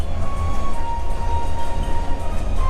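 Steady rumbling of a passenger train running through Vietnam toward Phong Nha, with a continuous low roar of wheels on rails and a thin sustained tone above it, loud and constant throughout.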